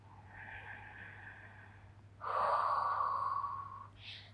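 A person takes a deep breath while stretching during a cool-down after running: a long, soft inhale followed by a stronger, louder exhale, close and alone, ending in a brief puff.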